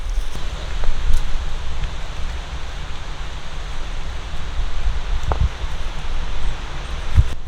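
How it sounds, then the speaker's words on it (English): Steady wind blowing through a forest in Romania, a continuous broadband rushing of air and rustling foliage that holds at an even, fairly loud level throughout, with a few faint knocks and no talking. "You can hear it's quite windy"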